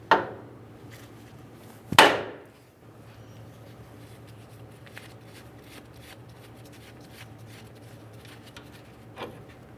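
Two sharp hammer blows strike to free a tie rod end on a 1994-2001 Dodge Ram 1500, the second louder, followed by quieter scattered tapping and handling noises in a workshop.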